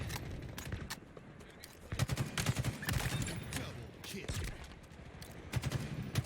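Gunfire in the video game Halo Infinite during a Last Spartan Standing match: repeated shots and bursts crackle through a busy, noisy battle mix, with heavier thuds around the middle and near the end.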